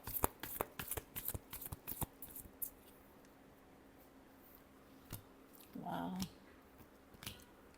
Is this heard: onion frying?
no